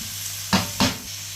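Fish and ginger frying in a pan for ginataang isda, with a steady low sizzle and two louder bursts of stirring or hissing as the pieces are moved.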